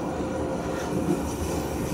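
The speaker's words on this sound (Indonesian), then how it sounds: "Itu dia kereta api Sawung Galih dari stasiun Jakarta Pasar Senen, tujuan stasiun Kutoarjo." Sawung Galih passenger train running from Jakarta Pasar Senen to Kutoarjo on an Indonesian line, heard as a steady, loud low rumble and roar of a passing train with no talk over it.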